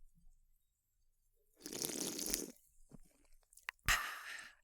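A mouth imitates the Roblox slurping sound effect in two bursts: a long wet hissing slurp, a pause with small clicks, then a sharper, shorter slurp.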